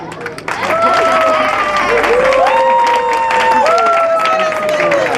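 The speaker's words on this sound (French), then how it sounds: "Applaudissez pour moi." Dense, continuous applause from a large audience at a school event fills the clip, with a whistle-like tone and a few voices rising above the clapping.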